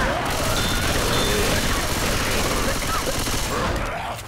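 Continuous heavy gunfire in Left 4 Dead 2, with rapid overlapping shots forming a dense, loud barrage that eases off near the end.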